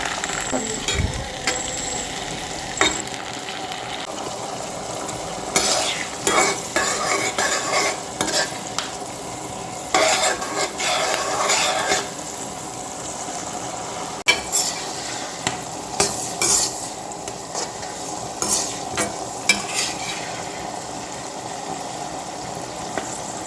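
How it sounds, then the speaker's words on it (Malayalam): Kanthari chilies shallow frying in oil for pickle, an ongoing crackling sizzle with repeated stirring scrapes and utensil clinks, fairly close and steady. "ജസ്റ്റ് ഒന്ന് കാന്താരിമുളക് അതിനകത്ത് ഷാലോ ഫ്രൈ ചെയ്തെടുക്കണം"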